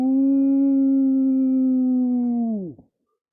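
A single long, loud wolf howl holds a steady pitch for about two and a half seconds, then bends downward and cuts off abruptly, heard alone with no other sound.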